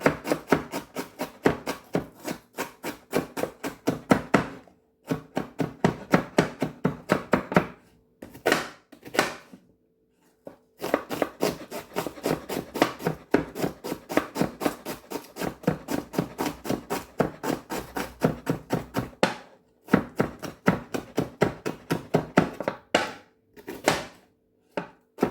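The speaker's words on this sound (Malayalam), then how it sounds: "അപ്പോൾ നമുക്ക് ഈ സവാളയൊക്കെ ചെറുതായിട്ടൊന്ന് കട്ട് ചെയ്തെടുക്കാം അല്ലേ." Onions are chopped finely with a knife on a board for parippu vada: long bursts of rapid, even taps, close and crisp, separated by short pauses, with no one speaking.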